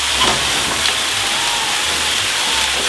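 Steaks searing in a pan after a splash of cognac give off a steady, loud broadband hiss and sizzle that holds evenly throughout, with no voices.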